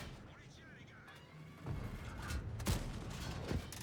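Tank cannon shots from the Fantome in a tank video game, a few heavy booming blasts in the latter half over ongoing game rumble, with a voice talking.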